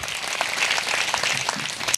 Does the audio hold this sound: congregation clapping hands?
yes